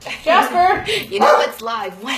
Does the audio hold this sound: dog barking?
yes